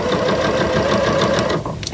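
A sewing machine stitches fabric during pinless piecing, a steady loud mechanical whir with rapid needle chatter, running alone and easing slightly near the end.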